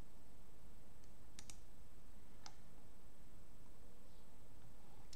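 A few sharp computer mouse clicks, one isolated, then a quick pair and another single click, sit over a steady hiss and faint high whine with no talking.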